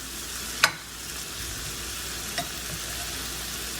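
A steady, even sizzle runs throughout as a steak is basted with its pan juices during a steak au poivre cook, with two brief louder spits cutting through, the first a sharp crackle near the start.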